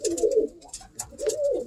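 Close pigeon coos from a racing loft come in two rolling bursts, a low throaty warble broken by a short pause and a few sharper flutters between.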